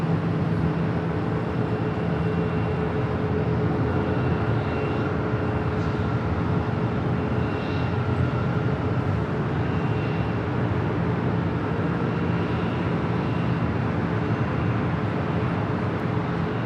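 Air France airliner departing LAX at night, a steady loud broadband jet roar with a low rumble that holds evenly throughout, no voices.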